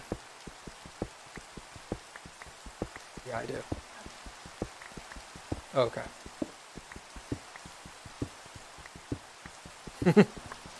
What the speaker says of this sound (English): Dude, I love the rain.